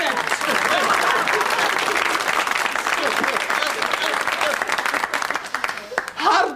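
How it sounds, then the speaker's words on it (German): Theatre audience applause for a Dutch cabaret performer, a sustained roll of many hands clapping that tapers toward the end, with a performer's voice breaking through at the close. "Geef u me maar een applaus, dan ben ik gered."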